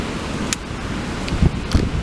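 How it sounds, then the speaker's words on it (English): Wind blows outdoors in a garden while a large willow bonsai is repotted, a steady rushing buffet against the microphone with a few faint rustles. "Hope you can hear me over the wind, which is beginning to get up."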